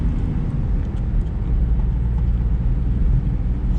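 A Smart Fortwo CDI cruising at 60 mph gives a steady, loud low-frequency engine and road rumble with constant cabin drone and no voices.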